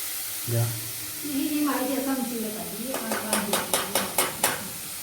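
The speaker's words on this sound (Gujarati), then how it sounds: "મારા મામાએ એમની કરતા મોટો ચમચો લીધો હોય ડુંગળી હલાવા" Chopped onions are stirred with an oversized spoon in a pan while frying, with a soft sizzle under a voice, then a series of sharp, regular scraping clicks of the spoon against the metal near the end.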